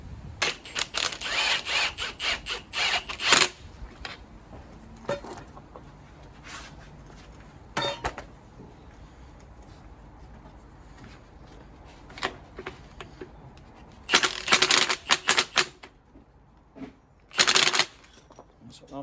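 A power tool whirs in bursts as it winds down a spring compressor during a front suspension spring replacement on a Citroen DS3. The bursts are close and loud, separated by quieter gaps with faint handling noise and short spells of talk.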